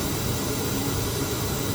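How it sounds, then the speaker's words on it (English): Steady broadband pink noise test signal played through speakers on a corrected high-fidelity audio system, a continuous even hiss filling the whole stretch at constant loudness with no other sounds. "That's a very good pink noise, high fidelity level, perfect pink noise"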